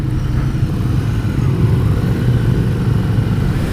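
A 2015 Ducati Scrambler at full throttle: a steady, close, loud engine drone that holds an even pitch throughout under heavy rushing wind, with no speech.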